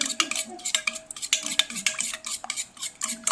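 Salt being stirred into an egg chilli mixture, a quick run of close, light clinks and scrapes of a spoon against a bowl in a fairly even rhythm, fairly quiet and with no talking.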